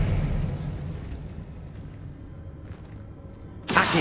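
The Expelliarmus spell is cast in the video game Hogwarts Legacy: a rumbling, explosive magic whoosh decays over several seconds, then a sharp, bright burst cracks in at the end.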